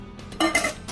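Pieces of a Bulin four-person non-stick camping cookware kit, a big pot, a small pot and a pan, clank and clink together as they are handled, in a few close, bright metallic knocks with no voices.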